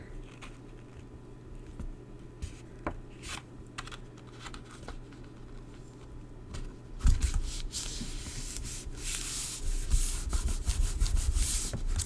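A tool rubs paper flat inside a handmade baby mini album, a soft scratchy burnishing close by. It starts quiet and intermittent, then turns into steady, louder rubbing strokes partway through, with no voices.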